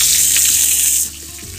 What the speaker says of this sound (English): fry the onions till the color changes